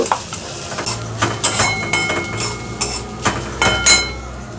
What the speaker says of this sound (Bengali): নারকেলটা অল্প একটু ফ্রাই করে দিলাম।